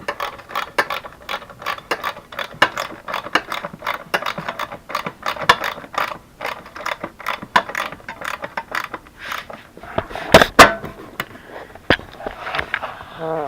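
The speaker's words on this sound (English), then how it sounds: "Go ahead and get our 10 millimeter socket. Start snugging that one down." A ratchet fitted with a 10 mm socket snugs down a bolt on a Yamaha R3 motorcycle under restoration, giving close, rapid bursts of sharp clicking with short pauses between strokes and a few louder clicks near the end.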